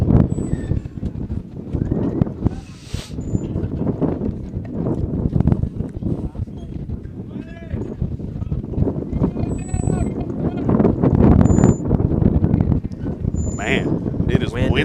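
Strong, constant wind rumbles and buffets a microphone at an outdoor baseball game, a heavy low roar that runs throughout, with talk and faint beeps underneath.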